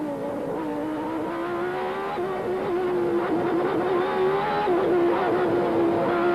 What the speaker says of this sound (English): You can hear the flipping on the throttle as he goes through the corners